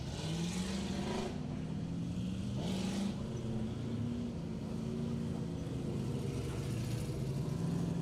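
Street Stock race cars rumble on a raceway before qualifying, their engines a steady low drone with shifting, overlapping tones at a moderate distance.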